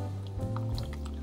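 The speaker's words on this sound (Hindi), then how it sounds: "मैं पानी डाल रही हूँ" Hot water poured into a simmering shahi paneer gravy, giving a close, continuous liquid pour with small drips and a soft squishy stir.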